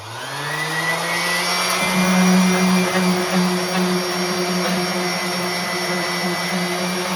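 A power sander running with 220 grit sandpaper in a shop, giving a steady close whine with a deeper motor hum, the tone stepping up slightly as the pad bears down on the surface.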